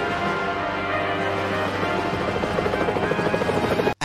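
A helicopter in a 1994 action film gives a loud, steady rotor thrum that builds into rhythmic blade chopping before a sudden cut near the end.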